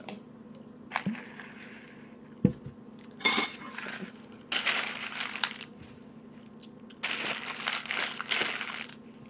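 Someone eats General Mills Loaded chocolate cereal, ball-shaped and crisp. Close, irregular crunching bursts come with a few sharp clinks of a spoon against a bowl.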